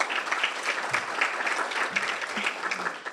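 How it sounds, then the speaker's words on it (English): Audience applause at a law enforcement and mental health club event, a dense, steady wash of clapping that carries on throughout, with a faint voice briefly audible underneath. "Please give him another round of applause."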